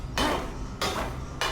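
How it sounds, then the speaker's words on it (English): Three heavy hammer blows strike in the Alone in the Dark video game, each a sharp, loud impact with a ringing metallic tail, spaced about half a second apart. "You can hit this with the hammer."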